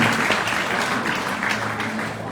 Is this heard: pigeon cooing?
no